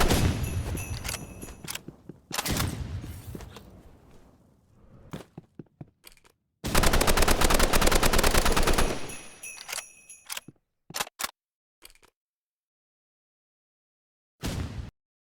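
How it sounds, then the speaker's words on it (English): Assault rifle fire from the Roblox game Rivals comes in several sharp bursts of rapid shots, including one long sustained volley, separated by quiet gaps and ending in a short final burst, up close and without talk. "assault rifle is very good as it has great damage and a decent fire rate"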